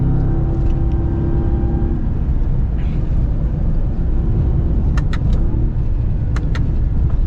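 A custom Ram TRX truck runs fast along a dusty desert track, its engine and road noise a loud continuous roar with a few sharp rattles and clanks near the end.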